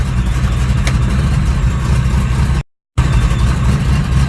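A fuel-injected 1969 Camaro engine with Eagle rods, Callies crank and JE pistons runs loud and steady at close range, a dense low rumble with a brief cut in the middle, no talking.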